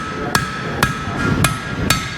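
A hammer strikes hot steel while a knife is forged at an anvil, four sharp, ringing blows landing at an even pace, close and loud, with no talk.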